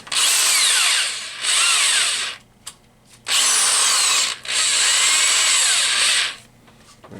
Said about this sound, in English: So I'm just going to drill up there.